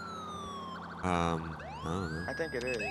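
An ambulance siren in the police-patrol game GTA 4 wails and sweeps up and down, switching between tones, with people talking briefly over it near the end.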